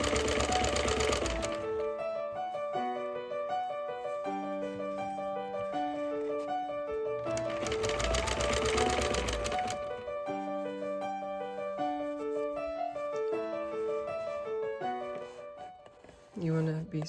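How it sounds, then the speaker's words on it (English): Sewing machine understitching bias facing along a garment neckline, running in two short fast bursts of needle clatter with a tuneful background melody throughout. "we're going to understitch. We're going to stitch right close to here"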